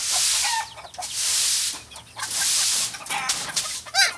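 Chickens clucking in a farmyard coop, several short bursts of hen calls scattered through steady rustling straw and shuffling noise, fairly close, no talk.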